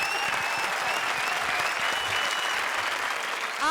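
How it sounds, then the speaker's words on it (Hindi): A studio audience on the comedy show Comedy Circus 20-20 bursts into loud, continuous applause and cheering, a full dense crowd sound that holds steady throughout. "जोरदार तालियां चारू शर्मा के लिए"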